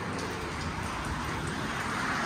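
Steady rain heard from inside a car driving on a Spanish motorway, a constant hiss of drops on the body and glass with low road rumble beneath, even and unbroken throughout.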